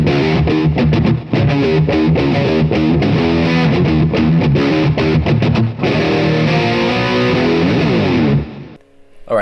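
Distorted electric guitar played through a Line 6 Pod Farm 2 rig with two amp tones blended, a dense, loud riff with chugging rhythm and sustained chords, ending on a fading ring.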